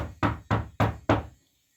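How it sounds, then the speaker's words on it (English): Four firm knocks on a door in an even rhythm, close and loud, followed by silence. "they knocked on the door"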